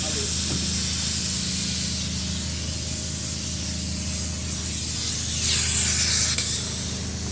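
A spray foam insulation gun gives a steady, loud spraying hiss throughout, swelling stronger near the end over a low mechanical hum.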